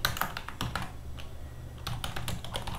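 Typing on a computer keyboard while naming a new composition in After Effects, quick clustered key clicks close to the microphone, with a short pause mid-way before another burst of keystrokes, no speech over it.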